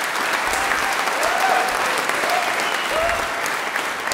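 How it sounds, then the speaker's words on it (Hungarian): Concert hall audience applauding steadily after a saxophone performance, a dense, close wash of clapping filling the whole moment without pause. "nagy tapsot kérek még egyszer Azia Fatajevának"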